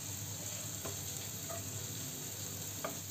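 Onions fry in a pan with salt, softening and changing colour, giving a steady, even sizzle at moderate volume that runs without a break and is heard alone.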